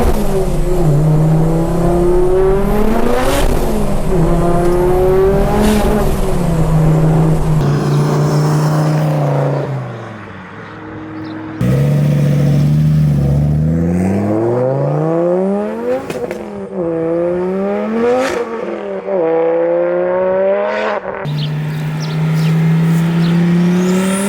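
Front-wheel-drive Ford Focus track car, tuned toward 700 bhp, revving hard through repeated upshifts, its loud engine note climbing and dropping with each gear change, with a brief lull partway through before accelerating again; crackles from the exhaust.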